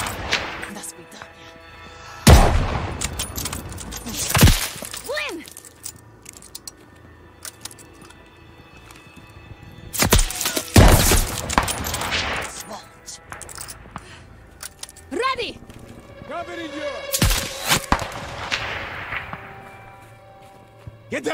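Bursts of gunfire crack out in the Call of Duty Vanguard airplane mission. Loud volleys come in separate clusters a few seconds apart, with metallic rattles, ringing tails and shouted voices in between.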